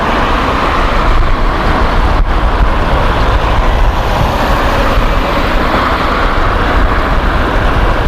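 A car engine pulls steadily after an upshift, with a dense, continuous, fairly loud rumble and road and wind noise throughout.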